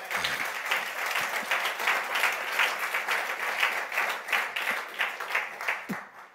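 A church congregation applauds at a French-language sermon with dense, sustained clapping that fills the room, steady and close throughout, fading near the end as a few voices rise under it.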